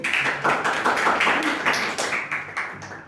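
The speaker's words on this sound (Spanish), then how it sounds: "un aplauso para su compañero" A short burst of applause from a group, with many hands clapping together fairly close by for a few seconds.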